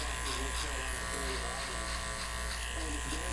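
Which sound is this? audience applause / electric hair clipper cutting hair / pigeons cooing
electric hair clipper cutting hair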